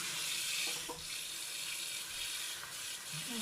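Lukewarm water runs steadily from a kitchen tap into a sink to soak vegetables for a pickle, a continuous close splashing hiss with no speech.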